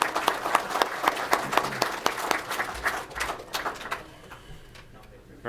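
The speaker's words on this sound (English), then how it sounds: "So let's please give them a warm applause." Conference attendees applaud after a session presentation, a crisp burst of many hands clapping at close range that thins out after about four seconds, with a brief voice at the very end.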